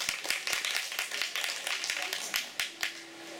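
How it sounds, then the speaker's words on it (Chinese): Audience applause at an evening stage performance, a moderate patter of several people clapping at mid-distance that thins out toward the end, with a faint voice in the background. "给出掌声鼓励"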